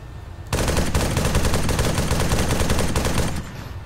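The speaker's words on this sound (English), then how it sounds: "Press F, you change to the 50 cal gun." Sustained burst of .50 cal machine gun fire in a video game, loud and continuous rapid-fire hammering lasting about three seconds, with no talking.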